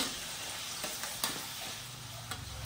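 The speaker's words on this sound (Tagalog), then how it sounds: "Ginisa na sibuyas tsaka luya." Onion and ginger sauté in a pan. A soft, continuous frying sizzle carries a few brief stirring scrapes, quiet and close, with no voices.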